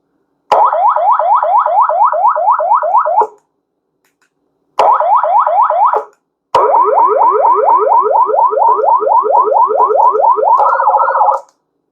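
A BooYu 400W 37-tone emergency warning siren sounds a loud, rapid warbling yelp in three bursts, the last one longer and shifting pattern near the end, with silent gaps between bursts.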